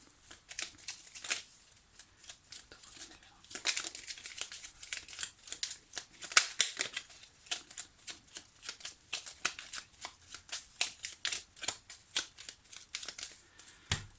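Tarot cards being shuffled and cut by hand, a quiet close series of crisp riffling flutters and soft slaps, irregular and repeated, with no talk.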